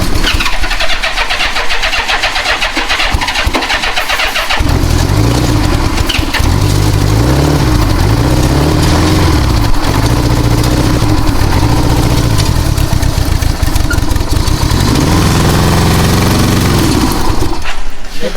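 An old Honda Goldwing motorcycle engine cranks and catches, then runs with a loud, steady rumble that rises and falls with throttle blips before cutting out near the end.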